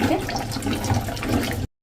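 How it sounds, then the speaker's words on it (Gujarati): Water sloshes and splashes steadily as raw green peanuts are stirred and rinsed in a bowl to wash off soil, close by, ending abruptly in silence. "તો આ રીતે આપણે પાણીના બાઉલમાં મગફળી નાખી અને જે માટી હોય એ કાઢી નાખશું।"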